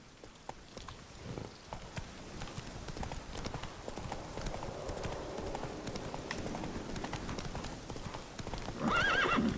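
Roach the horse from The Witcher 3 galloping with quick, steady clip-clop hoofbeats, ending in a loud whinny, under light game ambience.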